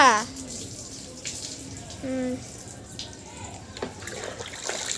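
Running water from a tap or vessel while something is being washed at home, a steady splashing wash under a woman's and another person's talk, with brief louder bursts.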